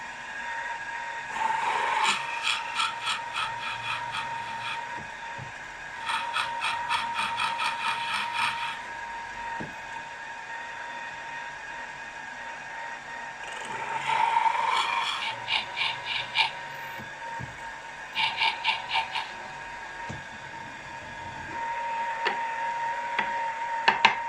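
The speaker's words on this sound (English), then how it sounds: "I'm just drilling these holes out for a 6BA clearance." Bursts of harsh rasping and grinding from a drill boring 6BA clearance holes in a metal casting for a 2-inch scale Fowler Showman's traction engine, several runs of a few seconds each separated by quieter pauses.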